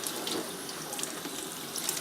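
Warm tap water runs steadily into a sink while a hat is rinsed under it, a soft continuous splashing hiss with slight shifts as the fabric moves through the stream.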